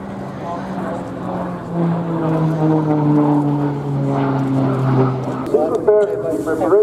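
A Pilatus PC-9M propeller aerobatic airplane drones steadily and shifts pitch as it passes at an air show, with a voice talking over it throughout.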